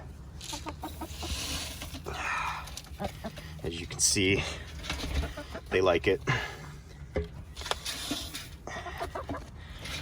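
Hens cluck and murmur nearby at a feeder in an uneven chorus, with some sharper squawks, while a person talks over them.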